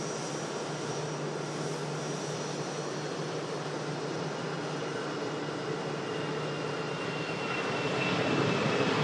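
Boeing 787 Dreamliner jet taxiing at Manchester Airport, a steady, fairly distant engine roar with a faint whine that swells slightly near the end, no talking.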